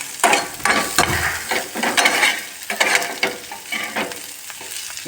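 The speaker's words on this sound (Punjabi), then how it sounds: "ਹੁਣ ਸਾਡੇ ਗੰਡੇ ਭੁੱਜ ਗਏ ਆ ਹੁਣ ਵਿੱਚ ਅਸੀਂ ਟਮਾਟਰ ਵੀ ਪਾ ਦਾਂਗੇ" Onions and tomatoes frying in a pan for masala Maggi noodles, a busy sizzle broken by repeated scraping stirs of a spoon against the pan, close and fairly loud with no talking.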